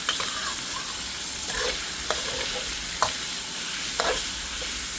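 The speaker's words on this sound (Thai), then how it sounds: "ตอนนี้ก็เหลือแค่เนื้อหมูสุกแล้วเราก็เอาไข่ลงนะคะ" Seasoned beaten egg hitting a pan of cooked pork and frying, a steady loud sizzle with occasional spatula scrapes and stirring clicks throughout.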